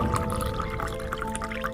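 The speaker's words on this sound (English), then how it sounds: "then finally you'll pour in your water." Water is poured into a homemade plant habitat over freshly smoothed soil, a steady, fairly quiet trickling and dripping that runs continuously for a couple of seconds with no voices.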